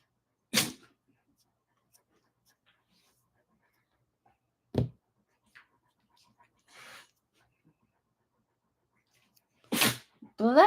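A person lets out three sharp, sudden sneezes spaced several seconds apart in an otherwise quiet room, the last followed by the start of a voice.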